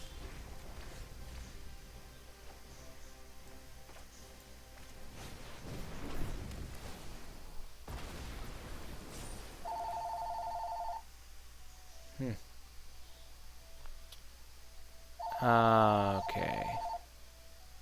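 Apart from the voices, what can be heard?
landline telephone ringing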